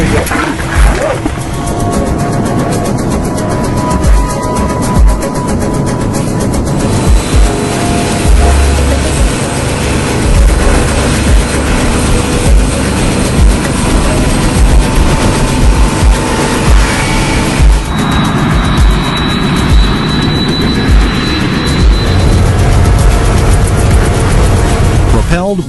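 A Boeing 777 jet airliner, propelled by 200,000 pounds of thrust, takes off with a loud, sustained roar of engines that rises and holds, while a voice talks over it.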